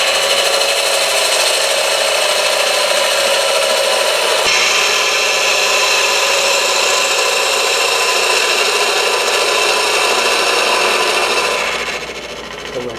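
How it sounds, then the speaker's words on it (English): A spindle gouge cuts a wooden box turning on a lathe, a loud continuous scraping rasp over the steady hum of the spinning workpiece, changing slightly in pitch midway and then easing off at the end. "I'll take the spindle gouge and square this all off with the bevel pointing in the direction I want it to go."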